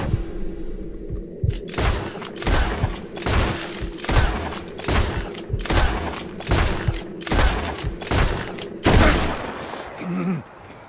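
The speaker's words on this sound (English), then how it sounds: "I shoot 10 bullets in his head and he's still alive." Rapid volleys of gunfire in Red Dead Redemption 2, about ten loud, close shots fired into a character's head at a steady pace, with heavy booming tails and a brief pause near the end.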